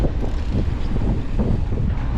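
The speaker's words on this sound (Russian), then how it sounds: "Да, ветрено, блин, капец." Strong wind buffets the microphone on a beach in Sochi in January, a loud, steady low rumble with gusty fluctuations and no voices.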